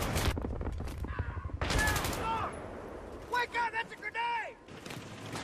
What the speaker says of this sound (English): I was just blindly firing because I had no clue where people are.